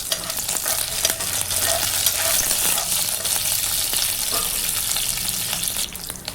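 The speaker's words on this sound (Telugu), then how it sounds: "ఇప్పుడు ఇందులోనే తరిగిన అల్లం, కరివేపాకు వేసి కరివేపాకు కూడా క్రిస్పీగా అయ్యేంత వరకు ఫ్రై చేసుకోవాలి." Chopped ginger and curry leaves frying in oil for semiya upma, a loud, continuous close sizzle with crackle and occasional stirring scrapes and no speech.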